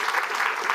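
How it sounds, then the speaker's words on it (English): Audience clapping for a speaker at a business gathering, a brief dense burst of applause heard close and fairly loud. "Give a round of applause for Jacqueline Frost."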